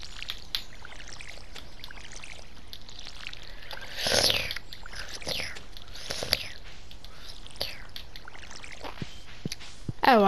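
A watering can pouring water in the farming video game Stardew Valley, with a couple of short splashing pours among soft clicks and game noises, and faint voices now and then.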